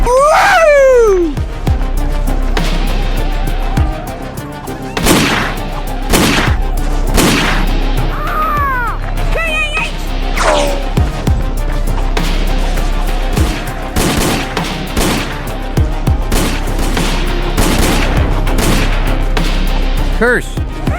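Rapid bursts of gunfire and machine-gun fusillades in a Zagor audio drama, loud and close, mixed with shouting voices, whizzing effects and booms over a continuous low rumble.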